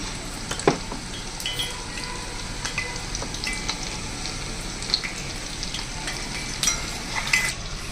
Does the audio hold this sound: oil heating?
yes